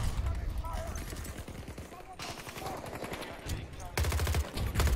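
Automatic gunfire in the Battlefield video game, rapid bursts of shots rattling nearly nonstop and loud throughout, with a brief lull before heavier firing resumes near the end.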